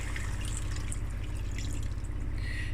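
Water runs into a pot of mutton curry with potatoes, a steady close trickle and patter of liquid that continues evenly throughout over a low background hum.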